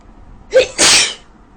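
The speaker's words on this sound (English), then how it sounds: "I'm like sneezing in the camera because I'm not really sure." A woman sneezes once, loud and close: a quick sharp intake followed by a burst of breathy spray, then quiet.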